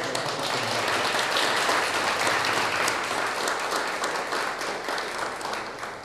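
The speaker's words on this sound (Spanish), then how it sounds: "Acá, un aplauso." Continuous audience applause at a municipal event for a letter-signing ceremony, dense even clapping held for several seconds, easing slightly at the close.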